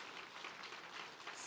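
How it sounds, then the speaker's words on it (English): A conference audience applauding its speakers, a brief wash of dense clapping heard from some distance at moderate level with no voices over it. "Let's have a rousing round of applause for all of our speakers, the conference organizers,"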